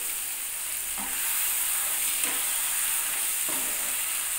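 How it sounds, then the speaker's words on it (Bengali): Ginger, tomato, garlic and chili paste with spices sizzle steadily in a pan for a crab dish, a continuous frying hiss broken by a few soft scrapes of stirring. "এবার সমস্ত মশলা দিয়ে ভালো করে কষিয়ে নিতে হবে"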